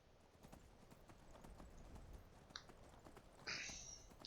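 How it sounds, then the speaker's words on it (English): A horse gallops in the video game Skyrim, its hooves clip-clopping in a quick, even rhythm that stays faint throughout. "Get on my horse and heading south we go."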